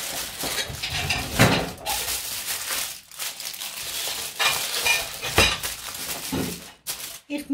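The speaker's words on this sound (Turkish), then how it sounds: "bulaşıkları toparlıyor." Dishes and cutlery clatter and clink repeatedly at close range, with scraping and rustling in between, a busy steady clearing-up sound.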